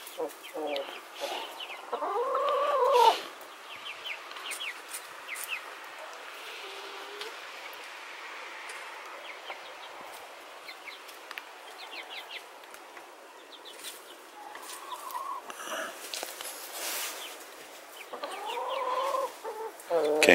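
A hen clucks softly among her young chicks in a farmyard, with faint scattered peeping and low clucks over a quiet outdoor background, plus a few brief louder calls near the start and end.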